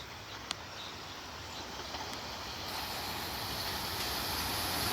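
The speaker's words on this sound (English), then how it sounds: "Coming in is the train 6480 to Warminster. Coming in, Silver 4's leading." Silverliner IV commuter train 6480 bound for Warminster, a limited run of four cars, rolls in at Elkins station with a steady broadband rumble and hiss that slowly builds as it draws nearer, with no one talking.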